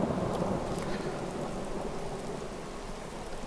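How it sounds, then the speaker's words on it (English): Steady rain falls with a rolling rumble of thunder in a Skyrim game scene, a broad constant hiss that stays even and moderately loud, with no voices over it. "It's still raining."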